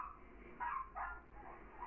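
An abandoned puppy whimpers in a few faint, short high whines and yips, quiet and close with no talk.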